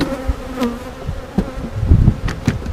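Honeybees buzz around an open hive during an inspection, a close, continuous droning hum with a few soft knocks and clicks of the hive frames.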